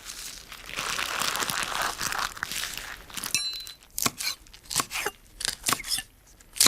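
A knife slicing through a rolled-up pile of leafy greens on a chopping board in a home kitchen, giving a string of sharp, close crunching cuts in an uneven rhythm after a stretch of rustling.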